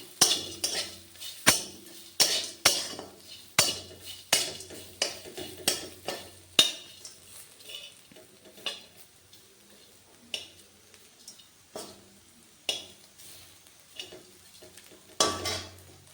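Fried bitter gourd is stirred in a hot pan and lifted out, with repeated sharp scrapes and clinks of a utensil against the metal at an uneven rhythm over a faint sizzle.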